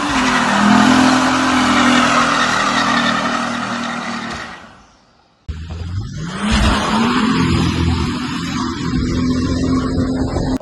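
A 1989 Mercedes E300 turbo diesel engine revving hard and roaring, cutting out briefly, then surging again with rising and falling pitch as it accelerates.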